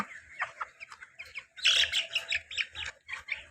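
A three-legged broiler chicken clucks and squawks in quick, close bursts, the calls growing louder and denser toward the middle before tapering off.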